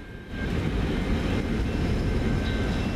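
A loud, continuous rumbling roar of a CN freight train rolling past close by, steady after a brief quieter start.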